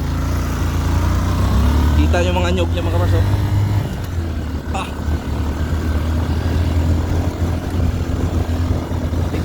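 Honda XR150 motorcycle engine while riding on a rough, risky rural route, a steady low drone running the whole time with a rider's voice and a brief shout over it early on.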